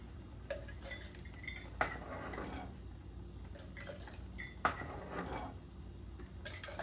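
A measuring cup scooping chicken juice from a pot of tinga, with scattered metallic clinks and scrapes over quiet background noise.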